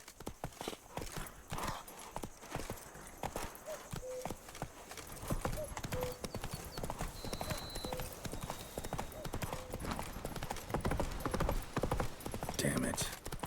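Horse hooves clip-clop steadily in The Witcher 3, a continuous trotting rhythm close by, joined by a brief whinny and occasional voices over a busy game soundscape.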